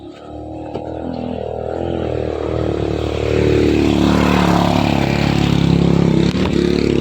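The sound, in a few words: motorcycle passing on a mountain hiking trail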